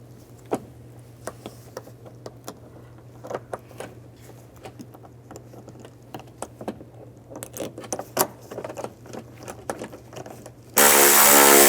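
Screws on a 2007-2013 Chevrolet Silverado antenna base being tightened: scattered metallic clicks and ticks over a low hum, then a sudden loud burst of whirring at the end.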